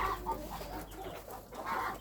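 Chickens clucking among chicks and farmyard birds, a continuous low chorus of soft clucks at moderate distance, with no talk over it.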